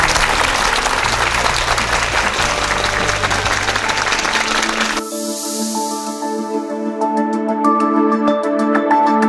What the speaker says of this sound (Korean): 나흘 동안 멋진 강연 들려주신 현대원 교수님께 감사의 박수 드리겠습니다.